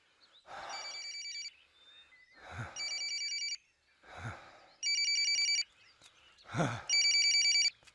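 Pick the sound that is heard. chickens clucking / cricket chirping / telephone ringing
telephone ringing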